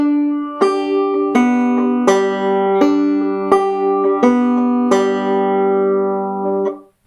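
Banjo picked in thumb-lead two-finger style, playing a slow, descending phrase of Frère Jacques: about eight clear, evenly spaced plucked notes ringing close and bright, with no talking.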